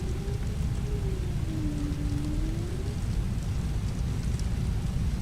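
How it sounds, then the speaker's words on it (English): Steady rain in Microsoft Flight Simulator during a night flight, a dense continuous hiss of falling drops with a low rumble and a faint tone sliding underneath. "a little bit of cloud and the rain out of nowhere"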